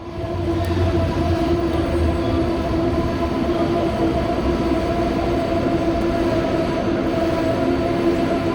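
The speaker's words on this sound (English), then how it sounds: "I believe this is a train I need to catch to the airport." A PATH train rolling along the track between the World Trade Center and Newark, a steady loud rumble with a sustained tonal hum and faint wheel squeal, no voices.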